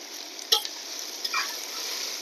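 Beetroot stir-frying in a pan without turmeric, a steady close sizzle with a few scraping stirs of the spatula, alone with no talk.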